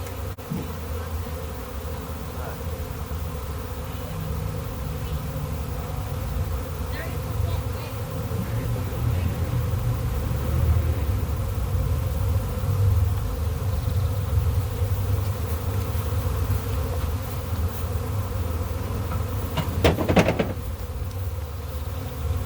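A honey bee swarm being caught in Galesburg makes a dense, continuous buzzing drone all around, loud and steady from start to finish, with faint voices now and then underneath.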